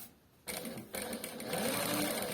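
A JUKI 8300N industrial sewing machine driven by a Bruce 513C servo motor starts up and stitches, its rapid needle clatter rising from quiet to a steady, fairly loud whir with no one speaking over it.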